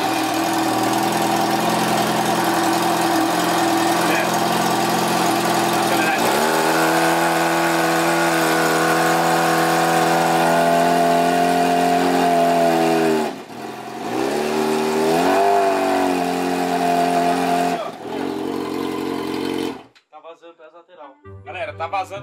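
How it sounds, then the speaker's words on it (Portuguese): Motorcycle, a Yamaha XJ6 with a balloon fitted over its exhaust, starting and idling, then revving with rising and falling engine tones, loud and close, cutting off abruptly near the end before a brief restart. "Vai, Renato, liga a moto."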